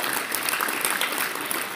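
Schoolchildren clap together at a school sports prize distribution ceremony, producing a continuous, even wash of applause from a sizeable group.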